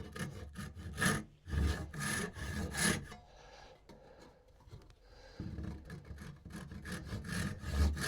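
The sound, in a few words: tenon saw rip-sawing wood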